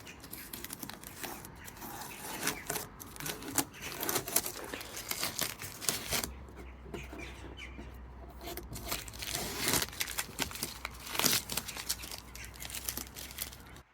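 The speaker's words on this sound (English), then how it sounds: "Just peeling back the tape now." Masking tape is peeled back from a Mitsubishi GTO after spray painting, giving close, quiet bursts of crinkling and tearing with a low hum in the background.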